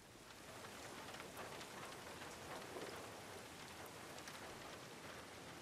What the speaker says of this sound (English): Or is that just the rain?